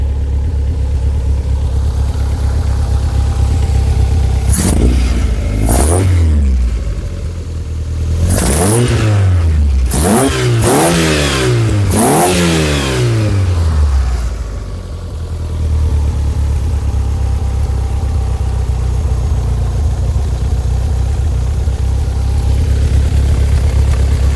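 A Skoda car engine revs up and down in several sharp bursts, each rising and falling in pitch with a slightly uneven, chattering quality, standing out from a steady idling drone that continues before and after.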